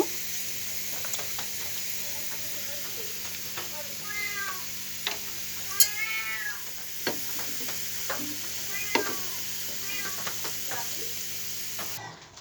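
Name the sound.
garlic frying in oil while being stirred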